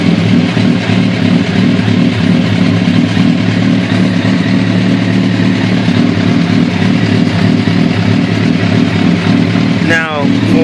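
A 2006 second-generation Kawasaki ZX-10R sport bike, suspected of a charging fault, idles steadily at close range with a loud, even engine drone throughout, ending in a brief rising whine.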